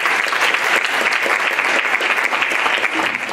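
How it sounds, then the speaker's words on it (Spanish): Theater audience clapping to welcome a journalist onto the stage, a brisk, close burst of steady applause lasting a few seconds with no voices over it. "Un aplauso para Miriam, por favor."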